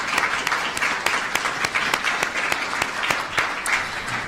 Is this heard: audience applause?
yes